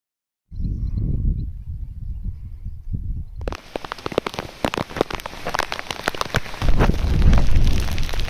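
Monsoon rain falling in a Gujarat village, heavy and close, with a dense steady patter of drops on surfaces that grows louder and harsher partway through, with no talk.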